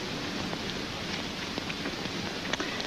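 Steady rain patters on a surface in a 1939 film scene, a dense even hiss with scattered drop ticks and no speech.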